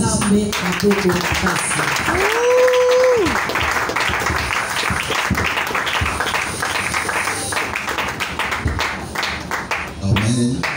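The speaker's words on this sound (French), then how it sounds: "Que l'église s'acclame." A church congregation claps and cheers for an arriving bishop, a dense, sustained wash of applause and crowd noise with voices mixed in and a short rising-and-falling tone partway through.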